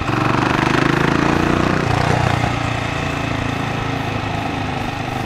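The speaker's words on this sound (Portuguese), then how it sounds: "Você dá a mão no acelerador, ela anda pra caramba, velho." A Savage 650 custom motorcycle with a large carburetor and CG chassis runs its engine, a loud steady near rumble that eases slightly partway through, alone without voices.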